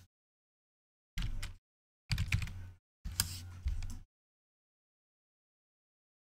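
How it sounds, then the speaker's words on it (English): Fast typing on a computer keyboard comes in three quick bursts of dense clattering keystrokes, close and clear, separated by silent pauses. "it always sounds like I'm typing frantically because I type very quickly"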